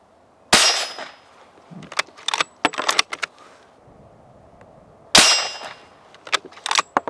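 A suppressed Steyr Breeze CLII carbon-fibre rifle fires Winchester 185-grain subsonic rounds, two sharp cracks about four seconds apart, each followed by smaller metallic clinks and handling clatter.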